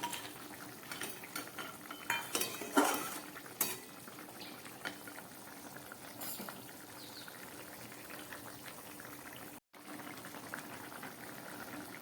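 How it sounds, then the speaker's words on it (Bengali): Gravy simmers in a pot with kudri (ivy gourd), fried prawns and fried bori, giving a soft, low bubbling throughout with a few quiet utensil clinks early on and no talking. "ঝোলটা একদম ফুটে উঠেছে।"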